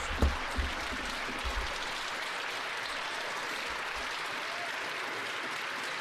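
Sustained applause fills a parliamentary chamber, a broad steady wash of many hands clapping at even loudness throughout, with a couple of brief low thumps near the start.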